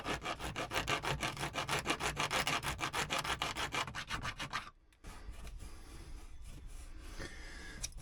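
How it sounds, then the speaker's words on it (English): A metal file rasps across a painted surface on a narrowboat in quick, rhythmic back-and-forth strokes, close and loud, then stops abruptly before a quieter stretch of faint scraping and handling. "get the file on it and give it a file down just to make sure it's fine"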